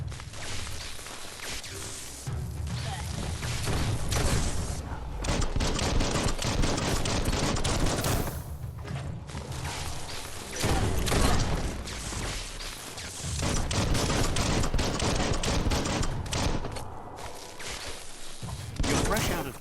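Rapid bursts of gunfire from the video game Biomutant crackle loudly almost throughout, layered with dense game effects and music, while someone talks over the action.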